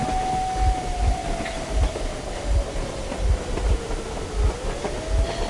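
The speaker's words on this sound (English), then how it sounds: "You're going to run the train!" A train rumbles along in the post-apocalyptic shooter Metro Exodus, with regular clickety-clack wheel beats over a loud continuous roar and a faint sliding whine, with no voices.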